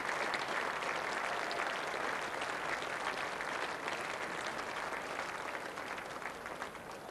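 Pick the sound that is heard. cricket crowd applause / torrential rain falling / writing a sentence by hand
cricket crowd applause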